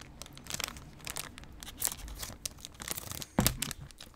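A plastic snack bag being handled and cut open with scissors, close crinkling and rustling with irregular crackles and a sharper snip-like burst near the end.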